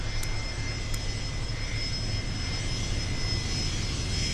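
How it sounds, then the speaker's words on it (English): Steady, even jet roar from a NetJets business jet passing overhead, bound for Kona, loud and constant for the whole stretch with no voices. "Look at this. Who do we have? We have an exec jet."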